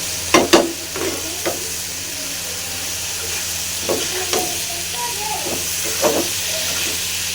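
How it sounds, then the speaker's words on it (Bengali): Eggplant fries with dried chela fish in a pan, giving a steady close sizzle and hiss with occasional scraping stirs and clinks of a utensil. "এই যে ভাজি শুটকি মাছ দিয়ে চেলা শুটকি দিয়ে বেগুনের এই ভাজিটা কিন্তু ভালোই লাগে"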